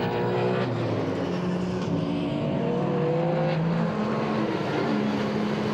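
Rallycross race cars, including a Mini Cooper and a Renault Clio, roar around a track in France, engines droning loudly and continuously with shifting pitch as they pass, without talk.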